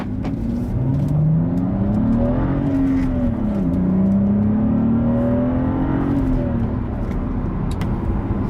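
A 2013 BMW 335i with a six-speed manual and a Stage 1 tune revving loudly and close, its engine note rising and falling through several throttle sweeps without any speech.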